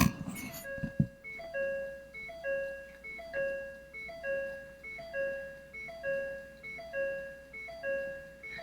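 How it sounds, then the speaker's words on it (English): Door-open warning chime in a Ford Taurus SHO with the key turned on, ringing as a steady, repeating two-tone ding about once per second, close and clear, after a brief clunk at the start. "it's dinging out of annoyance because I have the door open"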